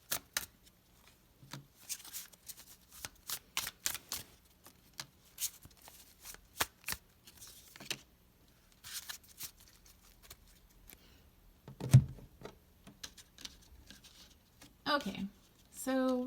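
Tarot cards are shuffled and pulled from the deck, making soft, quiet riffles, flicks and paper taps in irregular bursts. A short rustle comes near the end, and a voice speaks faintly at times.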